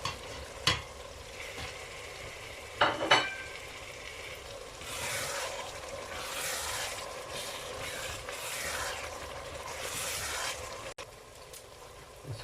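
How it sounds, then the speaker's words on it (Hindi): Spiced masala of salt, chili, turmeric, coriander, cumin and black pepper for beef kofta fries and sizzles in a pan, stirred with scraping utensil strokes and a few knocks, close and steady without talk. "तकरीबन 5 मिनट हमने भून लिया अच्छी तरह से।"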